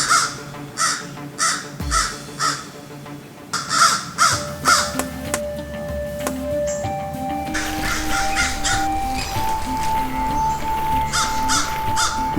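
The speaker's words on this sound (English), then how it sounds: "the crow's loud calls attract others to join the fray" Crows caw loudly in a run of harsh, evenly spaced calls, close and sharp at first, then carry on more densely beneath a sustained tonal backdrop.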